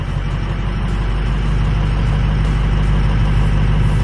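An old Ford 6.0 Powerstroke diesel truck engine idles steadily and close by, with a loud, constant low rumble and no talking over it.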